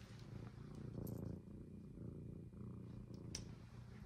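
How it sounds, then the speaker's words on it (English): Prist, a rescued stray cat, purrs in a soft, steady rumbling rhythm close to the listener, faint but continuous, with no talking over it. "And he's purring now."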